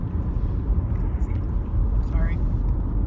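Steady low rumble of road noise inside a moving car on the way to work, constant and fairly loud, with a faint passing whine midway.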